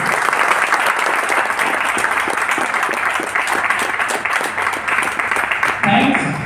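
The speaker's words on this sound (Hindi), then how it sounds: "एक बार जोरदार ताली हो जाए आप सभी के लिए" Loud, steady applause from a large crowd at a training session fills the whole stretch, dense clapping continuing without a break.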